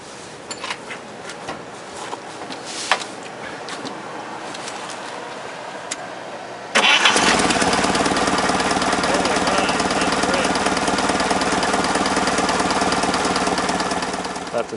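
Forklift engine being started during a tune-up with fresh plugs, cap and rotor: a few quiet clicks and clunks, then the engine catches abruptly and settles into a loud, steady, knocking idle that runs on to the end.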